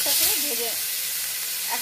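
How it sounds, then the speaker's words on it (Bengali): Loud, steady sizzling of fish frying in mustard oil in a wok, a continuous bright hiss with faint stirring. "কড়াইয়ের মধ্যে সর্ষের তেল দিয়ে দিচ্ছি, মাছগুলোকে ভেজে নেব।"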